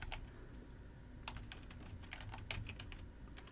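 Computer keyboard keys are typed in quick, irregular clusters of soft clicks, close and quiet over a low background hum.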